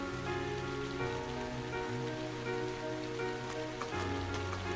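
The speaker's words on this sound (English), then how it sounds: "And it's raining." Continuous soft rainfall patters on surfaces in the video game The Legend of Heroes: Trails of Cold Steel, faint and steady, with sustained musical tones underneath and no voices.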